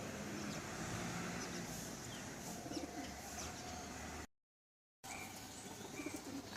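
Pigeons or doves coo and chirp faintly at a distance over soft outdoor background noise, with a brief silent break partway through.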